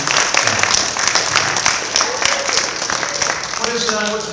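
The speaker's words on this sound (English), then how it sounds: "Give them all a nice round of applause to relax and even further." An audience at a hypnosis show claps together in sustained applause, a dense wash of hands filling the room, while a voice talks over part of it.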